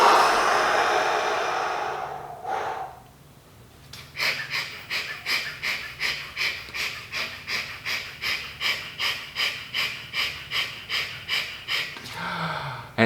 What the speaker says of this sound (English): So you're gonna do full exhale.